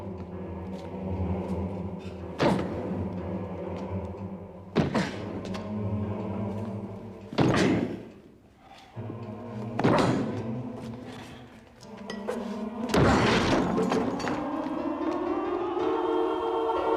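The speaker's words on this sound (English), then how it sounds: "This door must be broken open immediately." Someone forces a locked study door with heavy blows: five loud, hollow thuds spaced a few seconds apart, the last a louder crash as it gives way, with a tense music drone underneath.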